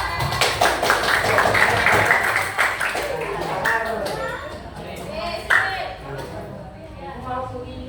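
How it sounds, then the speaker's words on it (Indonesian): A classroom of students claps for a classmate named Satria, a dense burst of hand clapping that fades after a few seconds into scattered taps while a teacher and children talk over it. "Tepuk tangan buat Satria"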